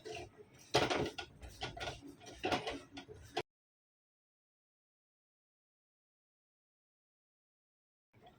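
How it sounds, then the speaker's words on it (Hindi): Lapsi is roasted in desi ghee in a pan with a spoon stirring and scraping, quiet rustling and clinking for about three seconds before the sound stops. "गर्म होने के बाद ये देखो, लापसी डाल के अच्छे से इसको भूनेंगे।"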